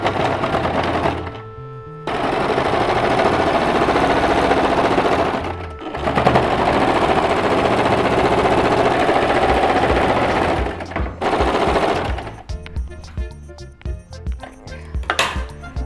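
A sewing machine stitches elastic onto the waist of a ladies' top made from an old shirt, running in long loud continuous bursts with brief pauses, then slowing into short uneven runs near the end.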